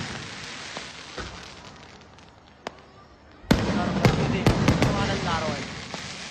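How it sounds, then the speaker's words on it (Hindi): Fireworks around the Radha Rani temple in Barsana: sparse sharp cracks at first, then a sudden loud burst of dense crackling and popping bangs. Faint voices sit in the background. "मंदिर के चारों ओर आतिशबाजी का माहौल है।"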